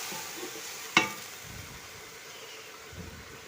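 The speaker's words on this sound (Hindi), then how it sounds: "ये अब हम इसकी भुनाई करेंगे।" Onions and vegetables sauté with yakhni stock for a chicken and vegetable pulao, making a faint, even sizzle with one sharp clink of a utensil early on.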